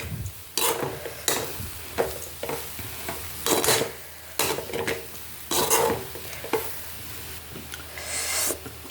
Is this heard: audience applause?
no